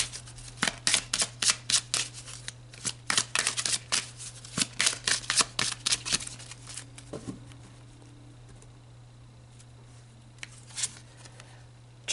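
Tarot cards being shuffled for a reading, a rapid run of crisp riffling flicks over the first six seconds, then a few soft taps and a single snap near the end over a steady low hum.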